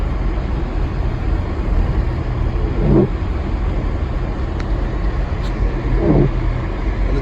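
Cars pass steadily through snowy Big Bear Lake during a blizzard, giving a loud, continuous road rumble and tire hiss. Two vehicles swell slightly louder as they go by.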